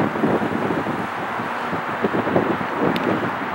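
Strong wind in the mountains buffets a microphone, producing steady, loud rumbling roar throughout with no voices.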